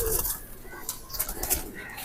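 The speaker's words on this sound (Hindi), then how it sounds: "कुछ इस तरफ है भाई साहब के पास कबूतर।" Bullet-breed pigeons in a fancier's loft coo softly while wings flap in short bursts, close and fairly quiet, with a voice talking in the background.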